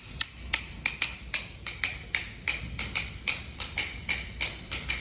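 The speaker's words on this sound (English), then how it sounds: "They call it the traditional bell pattern" West African timeline, the traditional bell pattern, tapped as a sharp, bright metallic rhythm of about twenty evenly spaced strikes over five seconds, close and steady with no talking.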